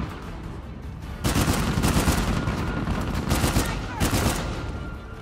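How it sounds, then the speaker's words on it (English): Rapid bursts of enemy gunfire in Uncharted 4, loud and sustained, with several sharper volleys clustering near the end. "Oh, he's shooting me."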